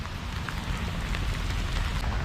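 Heavy rain pours steadily in a Sydney suburb, a dense close hiss of drops pattering on surfaces without pause.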